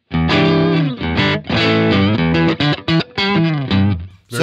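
Electric guitar run through a Digitech Jimi Hendrix Experience multi-effects pedal with the effects bypassed, playing a busy phrase of ringing, sustained notes and quick short ones, loud and close with no talking.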